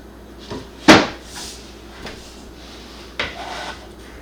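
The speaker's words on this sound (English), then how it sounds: "take this drawer and slide it in there with the tracks in and slide it all the way to the back and pull it back out" Kitchen drawer being slid in and out on its tracks during a Kreg drawer install in a remodel, a few knocks and rumbling slides, with one sharp loud bump near the start and another slide-and-thud later.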